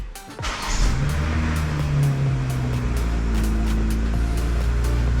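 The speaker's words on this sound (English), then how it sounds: "Next step would be to start the car" A BMW X5 G05 engine cranks and catches, settling into a steady, close idle hum with a low rumble that holds for several seconds.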